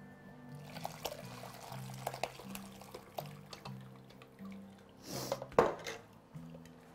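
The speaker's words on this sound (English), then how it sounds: "See, now I can pour." Tomato shrimp bisque poured through a kitchen strainer, a soft trickle and drip with light clinks of metal, near and quiet, rising into a brief louder splash toward the end.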